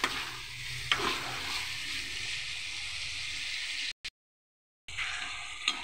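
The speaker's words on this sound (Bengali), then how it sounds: "যেহেতু নতুন আলু তাড়াতাড়ি সিদ্ধ হয়ে যাবে, এখন ভালো করে একটু আমি কষিয়ে নেব।" New potatoes sauté in a pan for an eggplant kofta curry, giving a steady close sizzle with soft stirring scrapes. Near the end the sound cuts out briefly to silence, then the frying comes back.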